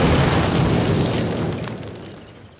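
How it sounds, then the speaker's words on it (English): Explosives blow up a cinder block wall in the Call of Duty American campaign, a deep rumbling boom already underway that slowly decays into a fading roar. "Place your explosives on the cinder block wall."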